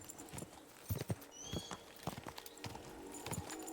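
Horse hooves clip-clopping at a steady walking rhythm in the medieval video game Kingdom Come: Deliverance II, moderately close with faint background ambience and no speech.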